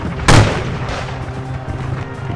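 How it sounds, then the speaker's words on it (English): A sniper's musket shot fired from a warship's rigging during the War of 1812 naval battle in Boston Harbor, HMS Shannon against a US frigate: one loud, close crack followed by a lingering low rumble of battle. "snipers were shooting each other in the rigging"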